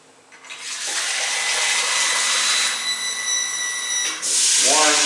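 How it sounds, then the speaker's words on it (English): Water pours steadily into an Instant Pot inner pot, a broad hissing rush that starts quickly, holds for about three seconds, then thins out before a brief clatter at the end. "Now we add like 2 cups of water"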